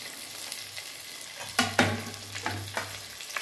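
Tomatoes sautéing in a pan for mutton biryani, a steady soft frying hiss with occasional scrapes and stirring knocks of a spoon, fairly close and moderate in level, no talking.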